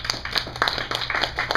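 Brief scattered clapping from a small conference audience, a handful of hands patting irregularly at a moderate distance.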